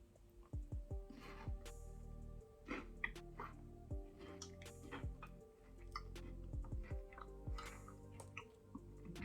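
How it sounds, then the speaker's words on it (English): Quiet, close-up chewing with repeated soft crunches and wet mouth sounds in an irregular rhythm, without any talking. "As usual, sorry for chewing noises,"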